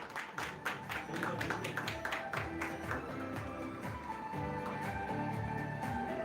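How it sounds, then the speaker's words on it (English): A crowd at the Ironman 70.3 Goa triathlon claps steadily throughout. Thick, continuous hand-clapping is mixed with background music and indistinct voices. "please give us a round of applause"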